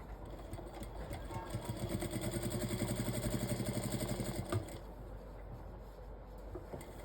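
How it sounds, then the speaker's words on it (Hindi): A sewing machine stitches a padded blouse pad along its edges, running in a steady fast rhythmic burst for a few seconds before stopping, fairly close, with faint talk around it. "बिल्कुल किनारे किनारे पे सिलाई लगानी है।"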